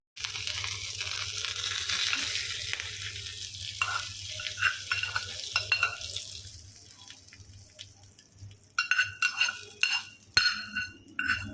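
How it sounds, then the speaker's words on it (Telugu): Mustard seeds and curry leaves crackle and spit in hot oil for a coconut chutney tempering: a steady frying hiss gives way to sharp, irregular pops that cluster toward the end, close by, with no talking. "చూసారా ఎలా చిట్పట్లాడిపోతుందో, అంటుంది కదా."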